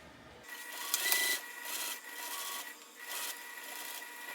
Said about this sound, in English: let's go ahead and get started stitching around here with the seam allowance given in the pattern